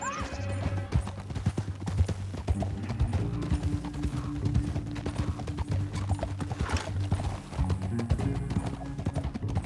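Horse hooves gallop in a steady, rapid clip-clop on a canyon trail in Red Dead Redemption 2, loud and continuous over a rumbling game score, with an occasional whinny.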